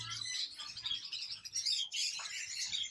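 Many small birds chirping and tweeting continuously at an exotic animal market in Bangkok, a dense, bright chorus of overlapping calls close by.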